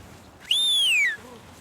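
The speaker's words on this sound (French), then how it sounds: "je siffle plus" A person whistles outdoors in bear country to scare bears away: one loud, sustained whistle that starts high and slides slowly downward, lasting under a second, with a faint softer echo after it.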